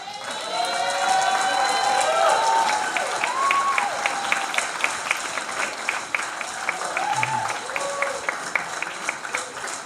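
An audience at a corporate presentation applauds and cheers for the guests in the room, a dense wash of clapping that stays loud and gradually thins, with whistles and shouts rising over it.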